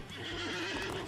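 A horse in the video game Disney Infinity, in The Lone Ranger setting, neighs loudly and whinnies over galloping clip-clop hooves in one brief, close burst.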